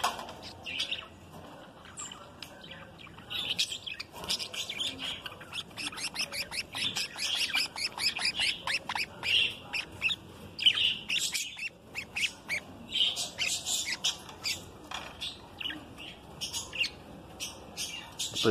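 A nest of budgerigar parakeet chicks chirps busily and continuously, with dense high-pitched cheeps and squawky calls overlapping at close range for the whole stretch.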